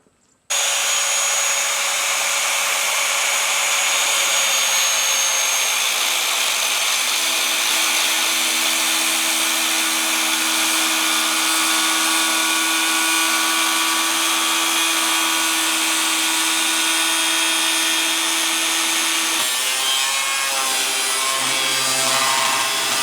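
Angle grinder cutting open the metal case of a computer, a loud sustained high-pitched grinding screech that starts abruptly and runs without pause, shifting slightly in tone near the end.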